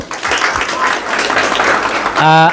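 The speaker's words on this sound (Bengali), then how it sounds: "সো আমরা সবাই ওনার জন্য একটা জোরে সোরে একটা তালি দিব।" Audience applause for a graphic designer, a steady wash of many hands clapping that ends as a voice briefly speaks.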